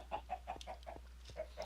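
Chickens cluck in Minecraft, a run of short, evenly spaced blocky clucks repeating about every fifth of a second at moderate volume, with no talk.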